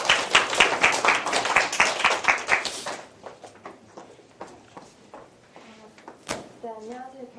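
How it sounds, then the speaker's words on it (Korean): Lecture audience applause, a brisk burst of clapping for about three seconds that fades into scattered claps, followed by a speaker starting to talk. "시퀀셜 이벤트 박수 한번 쳐주시고."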